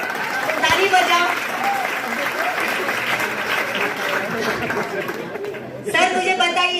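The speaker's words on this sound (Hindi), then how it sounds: "बजाओ उनके लिए ताली, ताली बजाओ" An audience at a marketing event applauds continuously, a dense wash of clapping mixed with crowd chatter and a speaking voice, swelling again near the end.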